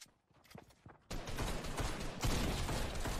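Gunshots in Fortnite, first a few scattered cracks, then a sudden heavy, continuous volley of fire that stays loud to the end.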